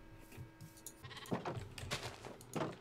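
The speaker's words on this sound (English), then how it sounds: "That happens when you're in a sheep pen and have to go in and out because you see a new sheep getting their wool back." Sheep bleat in the blocky survival game Minecraft, several short, faint bleats repeating at a quick pace over a low background.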